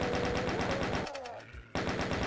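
Rapid chaingun fire in DOOM, a steady rattle of close, loud shots that breaks off briefly before resuming.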